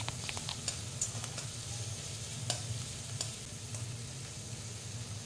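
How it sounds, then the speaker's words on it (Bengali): Garlic paste and slit green chillies frying in a pan for a fish curry with onion greens, eggplant and potato, a soft continuous sizzle with light spatula scrapes, close up and quiet, no talking. "আবার একটু কষিয়ে নিতে হবে।"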